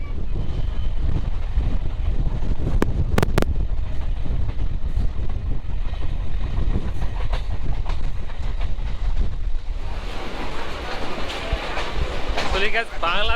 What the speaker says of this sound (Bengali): ইন্ডিয়ান লোকাল ট্রেনই বেস্ট দেখেন কি পরিমাণ স্পিড